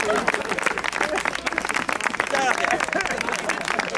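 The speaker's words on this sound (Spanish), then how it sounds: "Un aplauso." Audience applause at a festival entrance in Teruel, 2010, a continuous clatter of many hands mixed with lively crowd voices and shouts in a busy outdoor space.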